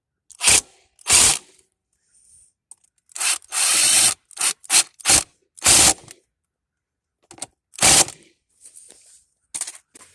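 Hose clamps are tightened on the air filter boot of a Ford Freestar, heard as a series of short, sharp ratcheting and scraping bursts from a hand tool, close up with brief pauses between them.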